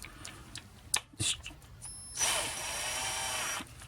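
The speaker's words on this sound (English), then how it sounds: "chuck it up in a little drill" A few small clicks and knocks, then a small drill spins a fishing reel bearing steadily at a high pitch for over a second before stopping.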